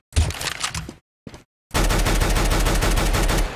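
An automatic rifle sprays in the video game Counter-Strike: Global Offensive: a short burst, a brief gap and a single shot, then a long, loud, unbroken stream of rapid fire lasting almost two seconds.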